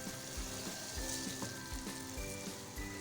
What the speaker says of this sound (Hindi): हम इसको 3 से 4 minute medium to high flame पे कुक करेंगे